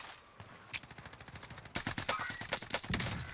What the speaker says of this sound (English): He won that gunfight.